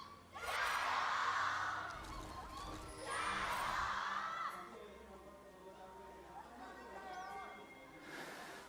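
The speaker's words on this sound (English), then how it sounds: "the crowd right now is electric" An arena crowd at an LPL esports match between RNG and Weibo roars and cheers in two big swells, then settles into a steady murmur while a commentator keeps talking.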